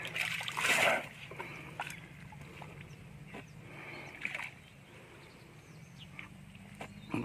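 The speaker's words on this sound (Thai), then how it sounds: "เป็นผู้ใหญ่แล้วใช้งวงดูดน้ำนะครับ" A young male elephant sucks up water with its trunk, opening with a loud splashing burst, then fading to soft trickles and light splashes, close by and with no talking.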